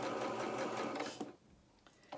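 A sewing machine runs steadily, stitching fabric for a doll waistcoat, then stops after about a second, leaving a few faint clicks and handling noises close by.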